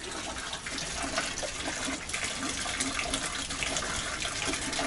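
Water pours steadily from a stone fountain spout at a tourist site in Braga, Portugal, a dense, even rushing splash that fills the whole moment without pause.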